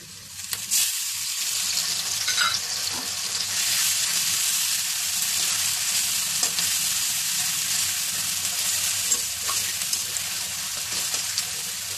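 Onion paste hits a hot pan in a cauliflower and fish-roe curry, frying with a steady, bright sizzle and occasional stirring scrapes, close and continuous without talk.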